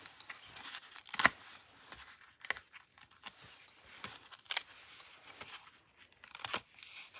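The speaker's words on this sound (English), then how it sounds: "Peel the backs off all of them." Paper backing being peeled off small adhesive sticker pads for card making, heard as several quiet, close tearing and crinkling bursts at irregular intervals, with no talking.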